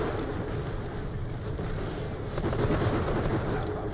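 Steady, dense gunfire rattles throughout the Borderlands: The Pre-Sequel shootout, pistol shots blurring into a continuous loud roar of weapon noise with no clear gaps.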